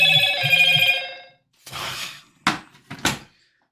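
A push-button phone rings at maximum volume in two loud electronic bursts, then goes quiet, followed by a few close handling clicks and knocks.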